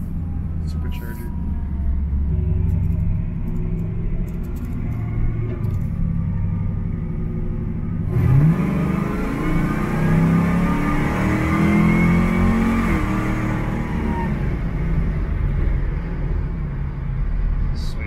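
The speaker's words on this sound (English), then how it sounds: "See if you can hear that supercharger." A supercharged 1969 Chevrolet Camaro rumbles deeply from inside the cabin while driving. Midway the revs climb with a rising whine, and the loud, continuous engine drone carries on throughout.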